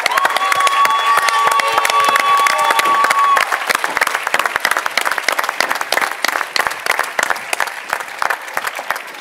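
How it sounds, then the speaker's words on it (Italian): A theatre audience applauds the cast at the end of a stage comedy, dense sustained clapping that stays loud throughout, with a held tone and a voice underneath in the opening seconds. "ancora applausi a tutto il cast"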